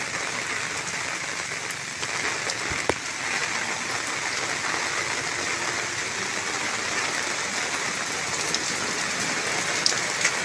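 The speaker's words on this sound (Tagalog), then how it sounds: "Grabe lakas ng ulan, oh." Heavy typhoon rain pours down steadily on Burias Island, a loud, dense hiss of drops drumming on surfaces with no pauses.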